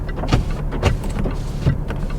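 Electric power windows on a Jaguar XF-S car whirring in short motor bursts, close and fairly loud inside the cabin with no talk.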